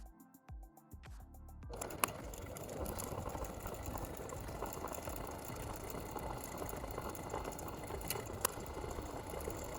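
A sewing machine stitching a buttonhole into fabric: after a few sparse mechanical clicks, a steady, fairly quiet motor whir with a fast needle patter runs on without pause, with occasional light clicks.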